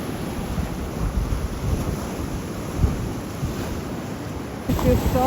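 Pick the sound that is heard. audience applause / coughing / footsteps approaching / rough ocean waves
rough ocean waves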